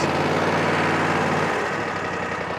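A Cub Cadet XZ7 zero-turn ride-on mower's engine runs loud and close with a steady, dense mechanical drone, which eases slightly into a settled idle partway through.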